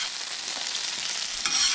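Halved potatoes are tossed with oil on a hot saj over an outdoor grill, giving a steady close sizzle with soft scraping stirs and no talking.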